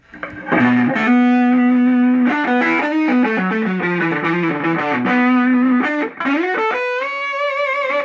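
Electric guitar played through a breadboard Tone Bender MKII fuzz circuit with gain turned all the way down, sustained chords and single notes ringing with mild, gritty distortion, loud and close.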